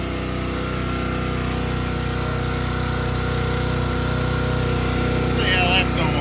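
A log splitter's small engine runs close by at a steady idle, a continuous buzzing hum with a strong repeating pulse that stays level, rising slightly near the end.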